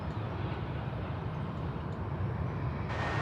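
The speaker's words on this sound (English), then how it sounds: "this will be Qatar cargo flight 8175. A 777." A Qatar Cargo Boeing 777 freighter at DFW Airport produces a steady, broad jet roar that holds level throughout, brightening slightly near the end, with no voices.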